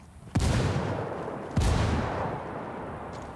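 Two loud frag grenade explosions in the Ghost Recon Wildlands video game, each a sharp close boom followed by a long rumbling decay, about a second apart, with no talking.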